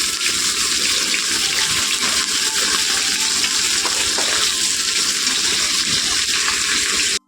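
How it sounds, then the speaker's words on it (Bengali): Tilapia fish frying crispy in hot oil, a loud continuous sizzling hiss that holds steady close up for several seconds and then cuts off abruptly. "এই মাছটাকে আমি একটু খড়কড়া করে ভেজে নিচ্ছি"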